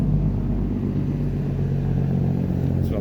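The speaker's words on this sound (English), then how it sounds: "That's what a logging truck sounds like, downshifting." A logging truck downshifting, its heavy engine rumbling low and steady throughout at close range, with no other sounds over it.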